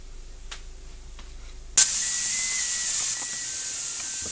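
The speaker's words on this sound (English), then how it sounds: "Now this has had 10 minutes of steam." A stovetop pressure cooker vents steam in a loud, steady hiss that bursts in abruptly after a few faint clicks and continues unbroken, easing slightly partway through.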